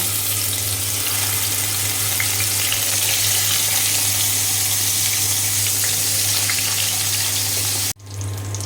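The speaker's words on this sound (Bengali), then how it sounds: "এইখানে যে মাছ এক পাশ হয়ে গিয়েছে, আমি উল্টিয়ে আর এক পাশ ভেজে নিচ্ছি" Rui fish fries in hot oil in a kadai, a loud, close, steady sizzle with a low hum underneath that cuts off sharply near the end before a quieter sizzle resumes.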